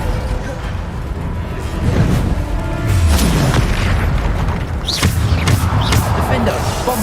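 Spell explosions in the video game Hogwarts Legacy give loud, close booms and bursts, several blasts overlapping in quick succession over a continuous rumbling background.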